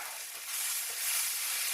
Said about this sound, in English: So I'm going to add my mushrooms now.